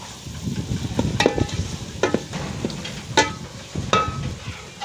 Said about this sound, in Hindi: अब हम डालेंगे इसमें अपनी सब्ज़ी तोरियों की।